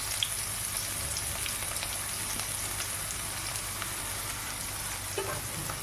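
Onions and green chillies fry in oil in a pan for crab masala, making a constant, fairly loud hiss with faint crackles and no talk.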